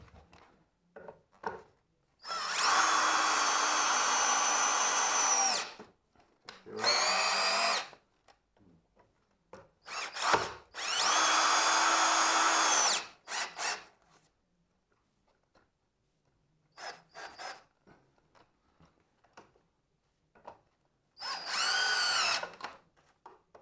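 A power drill motor whines loudly in several bursts of a few seconds each, high-pitched and close, separated by quiet gaps with faint clicks and handling noises, during work on iron soil pipe plumbing.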